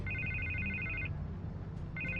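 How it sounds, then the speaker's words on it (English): A telephone rings in the Batman Telltale Series video game: a repeated electronic trilling ring that plays for about a second, pauses, then starts again, over a low, steady ambient bed. "I can't get the phone to stop ringing."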